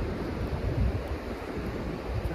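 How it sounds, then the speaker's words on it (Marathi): Ocean surf at a Goa beach rumbles as a steady, moderately loud wash of waves mixed with wind buffeting the microphone, with no voices. "भारी समुद्र आहे, रूमच्या मागच आहे आमच्या, त्यामुळे जवळ आहे"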